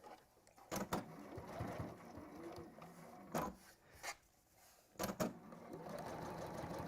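Sewing machine stitching with contrast thread, heard as short bursts of close mechanical whirring separated by quieter pauses and faint handling rustle.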